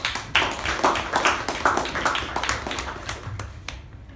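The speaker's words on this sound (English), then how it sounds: "a big round of applause for Toastmaster Mamatha" Online Toastmasters club meeting, where participants applaud Toastmaster Mamatha: brisk, close clapping from a few people, fairly even and sustained before trailing off.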